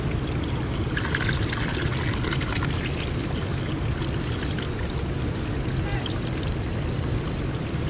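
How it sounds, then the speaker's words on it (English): Water from a mountain stream pouring into a bottle at a trekking campsite, a steady close gurgling rush that runs continuously for the whole stretch, with faint talk underneath. "so let's fill some water from the mountain."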